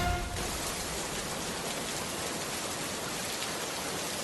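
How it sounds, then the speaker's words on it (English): Heavy rain pours down steadily and loudly in a dense, unbroken hiss, falling on one side of a road while the other side stays dry. "One side of the road is pouring rain, while the other remains dry."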